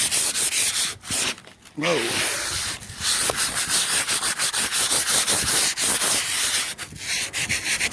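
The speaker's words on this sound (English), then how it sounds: "I think I've done a good enough job sanding here." Sandpaper rubs back and forth over a car body being prepped for spray painting, loud and close in steady rhythmic strokes with a couple of short pauses, and one brief exclamation from a voice.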